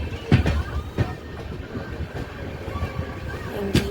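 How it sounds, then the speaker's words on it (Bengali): A passenger train pulling into New Jalpaiguri (NJP) railway station, with a low rumble, a few sharp clanks and bangs of the carriages, and a faint tone near the end, heard from on board. "ঢুকছে ট্রেনটা"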